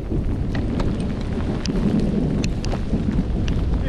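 A thunderstorm drenches a riverside camp on the Hawkesbury River: loud, steady rain with low rumbling thunder and scattered sharp crackles and drips close by, with no talking.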